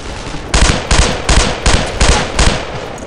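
Machine gun fire from the Brothers in Arms: Earned in Blood video game, six loud close bursts in a steady rhythm, each about a third of a second long, over constant background battle noise.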